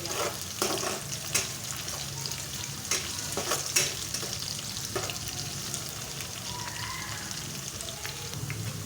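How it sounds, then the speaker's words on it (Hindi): Garlic frying with browned onions in a pan for black urad dal, a steady close sizzle with occasional stirring scrapes and clinks running throughout. "अब हम इसमें थूम डालेंगे और थूम को भी हल्का ब्राउन कर लेंगे। अच्छी तरह से इसको भून लेंगे।"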